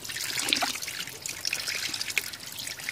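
Quiet trickling water from a small spring outflow at an old hillfort near Donetsk, a steady gentle dribble with occasional drips, heard up close with no voices.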